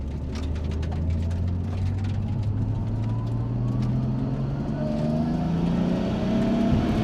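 An HKS-built 440 hp Nissan R32 GT-R climbs steadily through its revs on a mountain road, a loud continuous engine drone rising in pitch, heard from inside the car with faint turbo whistles.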